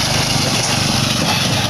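A custom ATV pulling a fall hayride roars as its rider tries a wheelie, giving a loud, close, steady engine drone with a harsh, noisy edge and no clear pauses.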